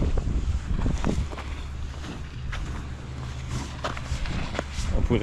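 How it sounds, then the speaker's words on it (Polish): A motorboat travels along the rocky Algarve coast, its distant engine a low steady drone half-buried under heavy wind buffeting the microphone, with faint voices here and there. "A płynie motoróweczka."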